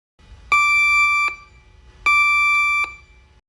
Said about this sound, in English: An alarm may trigger when the monitor or pager is taken out of program mode